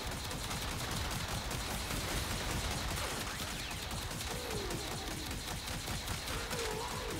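Primary fire of the Tenet Tetra gun in the video game Warframe, a rapid, continuous stream of shots forming a dense rattling wall of sound throughout, with no talk.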